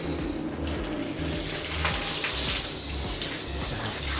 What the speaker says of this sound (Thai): ฉีดน้ำอันนี้ก็คือจะเทสด้วยว่าแบบน้ำไหลลงท่อดีไหม